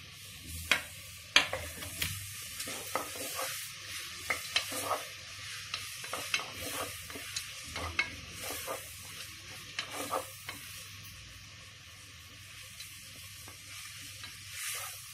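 Tomatoes frying for beetroot pulao, a steady soft sizzle in a pan broken by repeated sharp scrapes and clacks of stirring, close up and with no voices.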